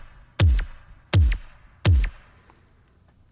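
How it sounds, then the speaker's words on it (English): A standard EDM kick drum processed with saturation, OTT compression and reverb, struck three times at an even pace, each hit a punchy, loud thump with a quick downward pitch sweep and short decay. "This is just a standard kind of EDM kick"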